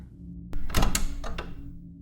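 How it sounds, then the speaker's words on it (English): A door is yanked open in a single quick burst, with a short latch click beforehand and a couple of fainter knocks as it settles, close by and with no one talking. "I yanked the door open."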